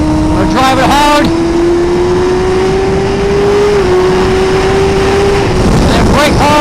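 A 2017 Suzuki GSX-R1000R motorcycle accelerating hard in third gear. A loud, close engine note climbs steadily over several seconds above rushing wind noise, with a voice heard alongside.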